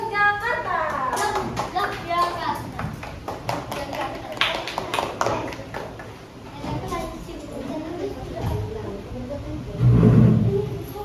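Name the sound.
class applauding the last group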